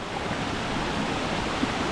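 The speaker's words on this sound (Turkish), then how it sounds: "Şelale muazzam." Katarata La Princesa, a large waterfall, gives off a steady, dense roar of falling water that fills the air evenly from nearby, with no voices over it.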